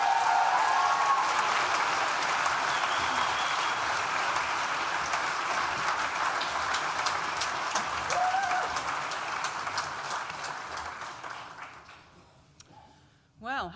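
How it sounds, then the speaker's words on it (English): Audience applause at a Nottingham Business School graduation ceremony, a large hall of steady clapping that slowly thins and dies away, with a voice speaking briefly as it ends. "I don't think I've ever known a student vote of thanks generate quite so many rounds of applause."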